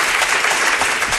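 A crowd in Las Palmas de Gran Canaria applauds a guest, producing a loud, dense, continuous burst of many hands clapping at close range, heard alone with no voices.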